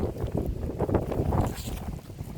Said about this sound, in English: It's really windy outside.